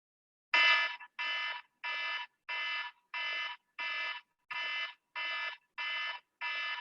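A workout timer alarm beeps in ten evenly spaced electronic bursts, each about half a second long, steady and clear with silence between them.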